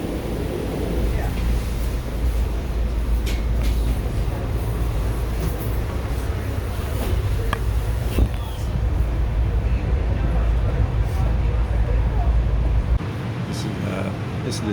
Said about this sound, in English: This is the SEPTA train to Trenton. It's going to be a local. It's on one of the Silverliner 4s.